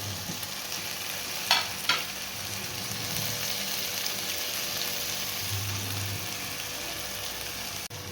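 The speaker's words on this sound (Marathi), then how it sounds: "आपण हे फ्रोझन वटाणे घेतलेले ते टाकून घेऊया शिमला मिरची घेतलेली आहे ती टाकून घ्यायची आहे" Frozen peas and capsicum sizzle steadily in a hot pan while spicy vermicelli is being made, a constant crackling fry with a couple of brief stirring clatters near the start.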